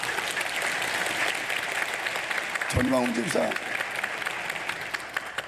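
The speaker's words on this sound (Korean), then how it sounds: "박수 한번 해줘야죠" Church congregation applause rolls on steadily at moderate volume, a soft dense clatter of many hands, while someone speaks briefly in the middle.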